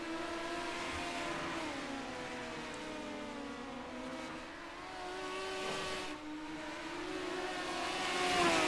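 Several midget race car engines in an iRacing simulation of a National Midget Association heat race drone loudly and continuously, their pitch rising and falling through the corners as the cars run close together, with no talking.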